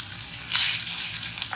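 Food sizzles steadily in a home frying pan, a loud close hiss that swells briefly and carries on unbroken, with no voices.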